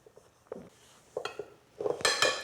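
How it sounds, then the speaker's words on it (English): Dry cake ingredients being mixed in a bowl for a chocolate cake, a few soft scrapes and taps building to a louder, brighter clatter of utensil against bowl near the end, close by with no talking. "So I'm going to mix the dry goods together first."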